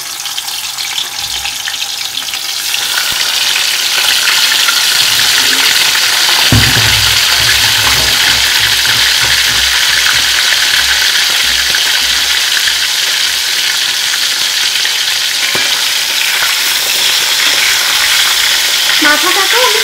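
Hilsa fish head frying in hot oil, a loud, dense sizzle that surges in after a quiet start and holds steady, with occasional stirring scrapes.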